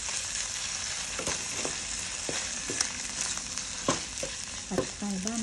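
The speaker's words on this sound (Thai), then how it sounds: "ส่วนหมูลงไปผัดกับกระเทียมนะคะ" Pork and garlic stir-fry in a hot pan for pad thai, a dense continuous sizzle broken by sharp spatula scrapes and clatters at irregular intervals.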